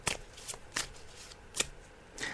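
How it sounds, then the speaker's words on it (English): Tarot cards being shuffled by hand, heard as four or five quick crisp riffling bursts spaced about half a second to a second apart, close and moderately loud over a quiet room. "So I'm just shuffling the cards now."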